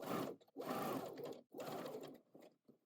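A sewing machine stitches across the edge of an apron bib in three bursts of rapid whirring, with short pauses between runs as the fabric is pivoted, close and fairly quiet.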